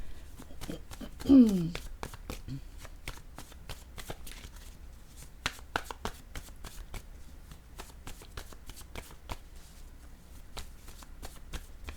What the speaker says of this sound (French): je vais déposer une carte mot sur l'argent